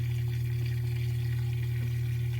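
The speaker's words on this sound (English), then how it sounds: "Sounds like it's giving me more water though than it's ever" GE 4.6 washing machine from 2018 filling with water on its deep fill setting, giving a constant loud low motor hum with a faint rushing water hiss, steady and unbroken.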